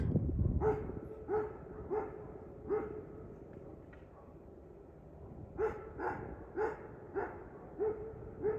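A Pitbull-mix dog barks repeatedly in two spaced runs of steady, evenly timed barks, fairly distinct against a low rumbling background with no talk.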